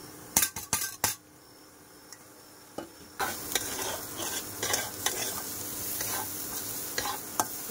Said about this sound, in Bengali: ডাল একটু লাল লাল করে ভেজে নেব